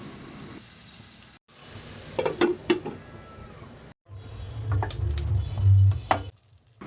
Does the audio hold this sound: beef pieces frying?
yes